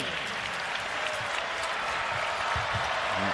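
Basketball crowd at an arena during an NC State versus UNC Asheville men's game, cheering and applauding steadily after a dunk, a broad continuous roar with scattered claps throughout.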